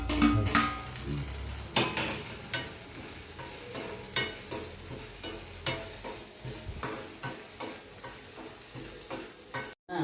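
Eggs frying in a pan with green chilli and salt, stirred and scraped by a utensil, sharp tapping scrapes repeating about once a second over a steady soft sizzle, close and fairly quiet, no voices.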